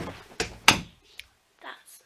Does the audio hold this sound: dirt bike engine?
no